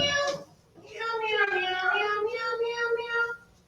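A voice imitates a cat meowing, one drawn-out, wavering meow up close after a brief opening sound.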